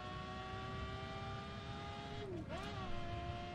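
A Lamborghini Aventador LP 700-4 with all-wheel drive accelerates hard in The Crew. The engine drones steadily and fairly quietly, then dips briefly as it shifts gear and climbs again.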